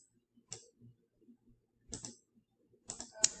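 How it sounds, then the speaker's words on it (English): Fingers press numbers into a calculator. Three quiet clusters of light plastic key clicks come close up, separated by near silence. "let's go ahead and type that in our calculator"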